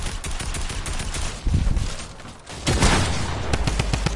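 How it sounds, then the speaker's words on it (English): Rapid video game gunfire aimed at the player, dense automatic bursts that swell and dip before surging again, loud and close throughout with no talking. "He's shooting me down."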